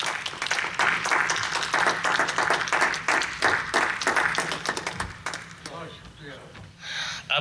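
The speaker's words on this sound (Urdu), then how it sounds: "آپ کی تالیوں کے ساتھ" Audience applause at an Urdu literary gathering: dense, sustained clapping from a crowd for several seconds, close and steady, then thinning out toward the end.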